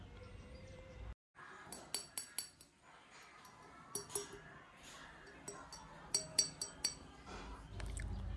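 A glass hookah base clinks in a series of sharp, bright taps, some single and some in quick clusters, close by against a quiet room.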